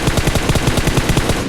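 Rapid automatic gunfire from PUBG Mobile, a tight rhythmic burst of about a dozen shots in under two seconds, loud and close with no other sound.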